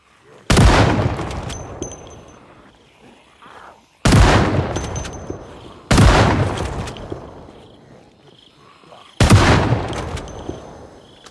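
Four loud single gunshots from the zombie survival game Project Zomboid, fired a few seconds apart, each a sharp crack with a decaying tail, with no talk over them.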